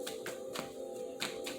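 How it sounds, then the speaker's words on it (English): Cards shuffled by hand during a horoscope tarot reading, heard as several soft, quick riffling bursts spaced across the moment over a steady low background hum, with no talking. "2 more shuffles. 3 more shuffles."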